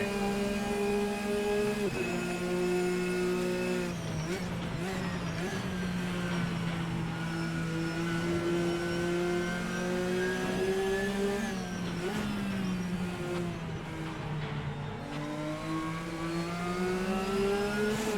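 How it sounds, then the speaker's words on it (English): A Dodge Viper GT race car roars past in Assetto Corsa, its engine note holding a steady high drone with gear-shift dips, layered over the player's own car engine running continuously at speed. "this Viper's gonna make his move and just blow right by"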